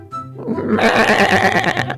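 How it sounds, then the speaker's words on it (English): A goat bleats loudly and close up in one long, wavering, nasal cry lasting about two seconds, with no other sound around it. "A goat?"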